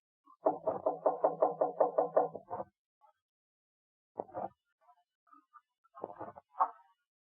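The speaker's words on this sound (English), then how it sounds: "Just go up the stairs and knock on the door on the left." Knuckles rapping on an apartment door in an old radio police drama, a close rapid run of about ten knocks, then a few shorter knock groups after pauses in otherwise quiet surroundings.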